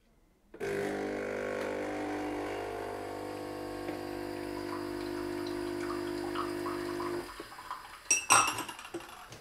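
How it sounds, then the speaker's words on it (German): A Philips coffee machine dispensing hot water gives a steady motorized hum with a buzzing pump tone for several seconds, then stops and is followed by a few clinks and rattles. "Die benutzen wir, um uns das heiße Wasser zu machen für den Dalgona-Kaffee."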